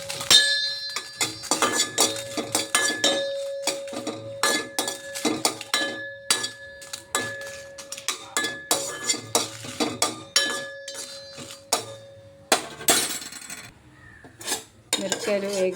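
Dried red chillies being fried in a pan on a stove, heard mainly as repeated metallic scraping, clinking and tapping of a utensil against the pan in an irregular rhythm, with a sustained ringing tone and no talk.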